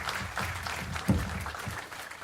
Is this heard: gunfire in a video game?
no